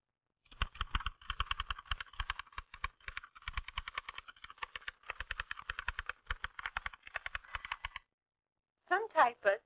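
Keys clack in quick, uneven bursts on a vintage typewriter keyboard, close and crisp, before a short pause and a few louder strikes at the end.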